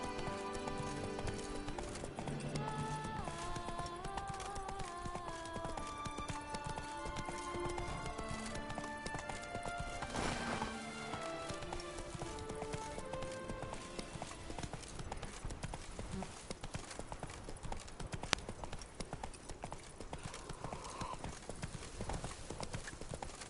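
Continuous galloping hoofbeats of the horse Roach in a video game, a fast rapid rhythm running the whole time under a layered musical score, with an occasional whinny and brief speech.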